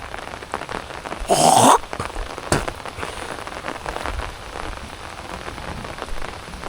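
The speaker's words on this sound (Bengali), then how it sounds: "মেঘলা আকাশ আর সেই সাথে বৃষ্টি।" Steady rain hisses over open crop fields, with a brief louder gust of downpour early on and no voices.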